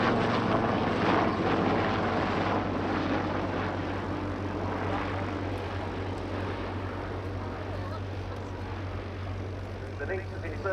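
A Westland Lynx AH.7 helicopter drones steadily at an airshow with a low rotor thrum and engine whine, while a voice talks over it.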